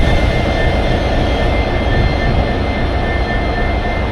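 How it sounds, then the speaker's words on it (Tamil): A WDB4D diesel locomotive engine drones loudly and continuously, a steady, dense rumble with a faint high whine running through it and no voices. "இன்ஜின் சவுண்டை பார்த்தீங்கன்னா சூப்பராக இருக்கும்"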